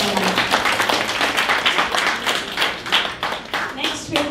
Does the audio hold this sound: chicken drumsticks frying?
no